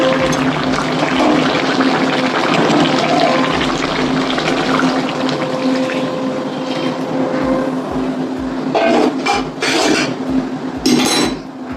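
Hot water is poured into chicken curry with potatoes cooking in a pot, producing a continuous loud, rushing, splashy pour close by that lasts the whole stretch with slight surges near the end.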